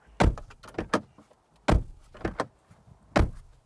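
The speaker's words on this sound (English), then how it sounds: "it's what the door slam sounds like" Three solid door slams of a 2025 Mercedes-Benz GLB, each a sharp thud followed by latching clicks, heard up close with short pauses between them.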